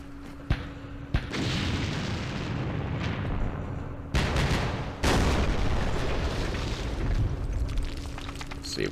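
Mortar and artillery fire in the wargame Campaign Series Middle East: several loud booming blasts, sharp bursts near 0.5, 1.2, 4.1 and 5 seconds, each followed by a long rumbling wash of noise.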